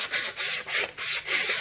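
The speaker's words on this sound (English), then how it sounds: "you can get in there with a piece of sandpaper and just kind of, here's like some 600 right here, and you can kind of just draw back and forth." 600-grit sandpaper drawn back and forth across a wire wheel spoke from a 1977 MGB, close and steady rasping in about four even strokes, alone without talk.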